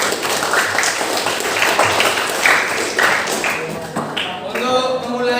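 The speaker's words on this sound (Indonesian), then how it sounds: "Tepuk tangan untuk kita semua." Loud, dense clapping from a classroom or school audience, continuous throughout with voices mixing in and a brief higher voice near the end.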